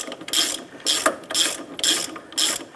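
A ratchet wrench tightening a bolt on a Jeep Grand Cherokee front shock and spring assembly: five loud, close bursts of quick ratcheting clicks at a steady rhythm, with no talking.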